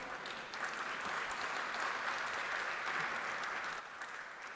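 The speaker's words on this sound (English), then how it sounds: "give a big round of applause to Padma Bhushan, Honorable Dr. Vijay P. Bhatkar, sir" Steady audience clapping at a world conference on consciousness, honouring Dr. Vijay P. Bhatkar, fairly distant and even throughout with no voices over it.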